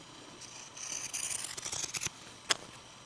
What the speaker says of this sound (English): now I'm just going to cut the edge pretty close to that extra line of stitching with some pinking shears